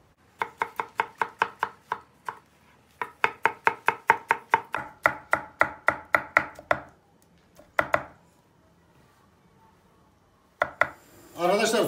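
Rapid knife chopping of tomatoes on a cutting board, quick rhythmic strikes in bursts with short pauses, close and crisp, ending in a louder clatter.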